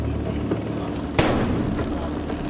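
A bomb squad robot destroys a suspected bomb device with a single sharp blast, a loud short crack over a background of steady rumble and murmuring voices.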